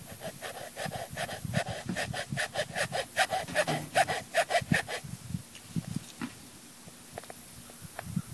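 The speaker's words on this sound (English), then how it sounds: "use the file on it. It's kind of a wood file. I'm gonna start this groove right here" A wood file cuts a groove for paracord into a Mora knife handle. Close, rhythmic rasping strokes repeat for a few seconds, then stop and leave soft handling noises.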